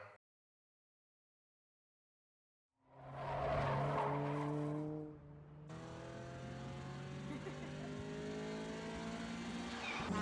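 A car speeds off with squealing tires in a Fast and Furious street driving scene, the sustained tonal screech and engine roar rising after a brief silence and continuing loud to the end.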